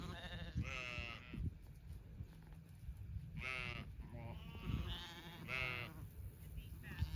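Several sheep bleat in a field on a seaside holiday at Saint Leonards, with three clear wavering calls spread across the stretch. Outdoor rustle and handling noise sit beneath the calls.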